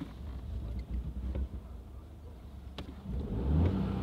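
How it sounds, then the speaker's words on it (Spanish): Car engine sputtering and popping with odd backfires after stalling on a hill, a rough low rumble that swells louder toward the end, with wind noise on the microphone. "Empieza como petardeo raro."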